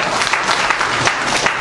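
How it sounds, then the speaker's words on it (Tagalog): A room full of people at a seminar on attitude applauds loudly and evenly, a sustained wash of many hands clapping with no speech on top. "Sige, laksan niyo, ma'am. Laksan niyo palakpak."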